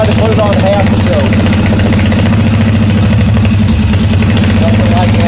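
A 1981 Yamaha XS850 Special motorcycle engine idles on full choke, a loud, close, steady rumble with a fast, even pulse that holds throughout.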